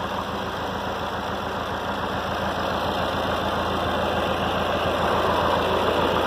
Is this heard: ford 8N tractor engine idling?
yes